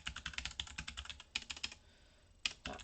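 Rapid close-up clicking of a computer keyboard as a web address is typed, a quick burst of keystrokes, a short pause, then a few more taps.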